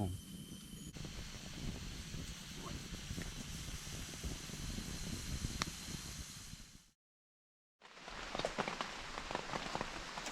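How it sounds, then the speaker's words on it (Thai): Rain falling at night in a forest, heard at two in the morning from a high platform, as a continuous soft patter with scattered drips that cuts out briefly before resuming. "ฝนตกนะคะ ฝนตกอากาศดีเลยแหละ"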